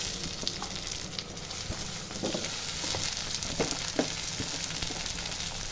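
Onions and tomatoes sautéing in a pan, a steady soft sizzle and hiss throughout, with occasional light clinks and stirring scrapes, no talking.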